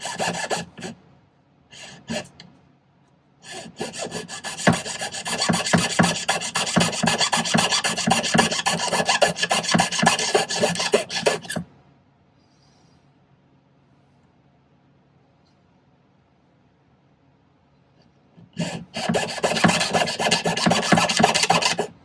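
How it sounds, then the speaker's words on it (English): A jeweler's saw cutting through a Larimar stone for teardrop earrings, making close, rapid rasping strokes in two long bursts separated by a quiet pause, preceded by a few short test strokes. "So I think we can just take the jeweler's saw and cut right through there in both spots."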